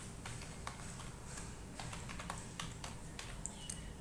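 Faint, irregular tapping on a computer keyboard while naming a new hello world.c file, ending with the Enter key. Light scattered keystrokes sit under a steady background hiss, with no talking.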